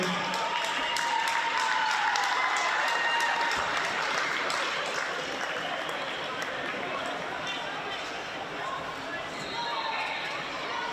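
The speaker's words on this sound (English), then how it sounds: "Big round of applause, ladies and gentlemen, once again, for both teams." A crowd at a women's Premier League basketball grand final applauds steadily for the champions, a broad wash of clapping and cheering that lasts throughout while an announcer talks over the PA.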